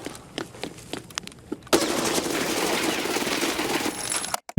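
An MP9 submachine gun in Escape From Tarkov fires a few separate shots, then lets loose a rapid, continuous burst at very high rate that sounds loud and close. The burst stops sharply at the end.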